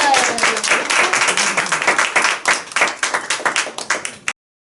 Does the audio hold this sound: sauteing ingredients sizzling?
no